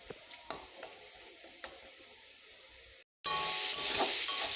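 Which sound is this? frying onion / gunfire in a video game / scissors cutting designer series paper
frying onion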